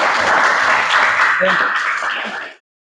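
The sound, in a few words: classroom applause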